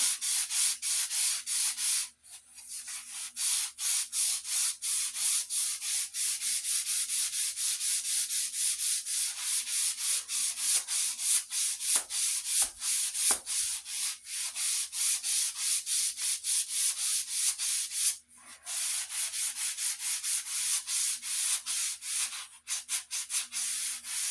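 A sanding sponge rubs briskly along a wooden Australian racing handle fitted to a modified Council Tool racing axe, a close, continuous scratchy rasp of fast strokes with only a couple of brief pauses.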